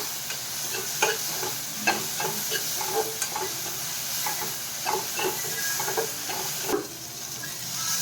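Tomatoes frying in a pan for a lentil-dumpling curry, stirred with a steady sizzle and regular spoon scrapes knocking through the hiss, close and moderately loud, with no one talking.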